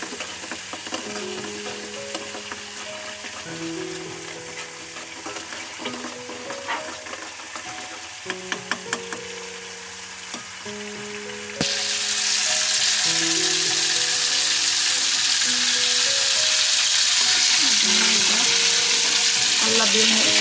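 Butter simmering into homemade ghee in a pan, then curry leaves dropped in: a soft bubbling sizzle under background music, jumping to a loud, dense hiss and crackle once the leaves hit the hot fat.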